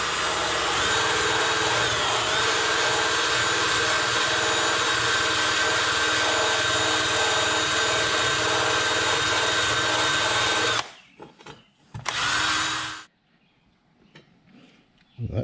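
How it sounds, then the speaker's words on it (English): A power drill spins a wire brush against a metal band on a Simplex rat bike motorcycle, a loud, steady grinding whir for about eleven seconds. It then stops abruptly, with one short burst afterward before quiet. "The first thing I'm going to do is clean this band up real good with this wire brush on the drill."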